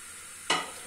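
Goat or chicken liver hits a hot pan with onion, garlic and tomato and bursts into a sudden loud sizzle halfway through, after quiet background, then settles into steady frying hiss.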